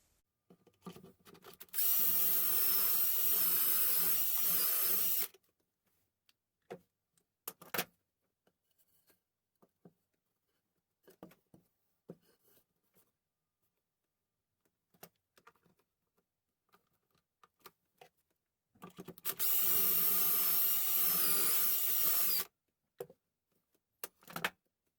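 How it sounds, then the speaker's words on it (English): Two loud bursts of a power drill boring pocket holes in wood with a pocket hole jig, each a few seconds of high whine, separated by a long quiet stretch of small handling knocks and clicks. "put one pocket hole on this side and then one pocket hole on the other side"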